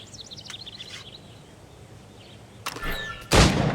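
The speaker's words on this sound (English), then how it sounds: "Shoot these targets." Gunfire during target practice in the video game Assassin's Creed Rogue: two sharp, loud shots close together near the end, after a quieter stretch of chirping birds in the background.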